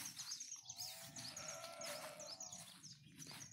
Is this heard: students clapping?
no